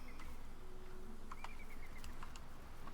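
A bird in the video game Baldur's Gate 3 gives soft cooing calls over a quiet ambient game background, a few brief faint notes spread across three seconds.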